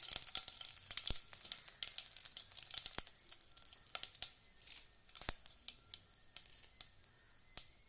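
A dried red chili fries in hot oil with mustard seeds, giving a steady bright sizzle studded with sharp pops and crackles, close and fairly quiet, with no talking.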